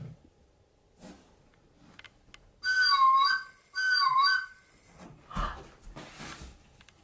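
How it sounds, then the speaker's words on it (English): A person whistles two sustained, melodic phrases of about a second each, fairly clear and close, with quiet shuffling and faint background noise around them and no talk. "My pet heard me whistling and came running."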